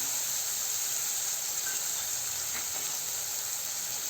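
Finely chopped onion sautéing in a pan, a steady close hiss of frying that holds at an even loudness without pause.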